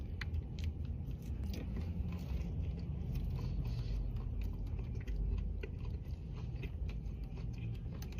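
Diablo-seasoned chicken nuggets crunch under close, quiet bites, followed by a run of crackly chewing that continues steadily across the clip.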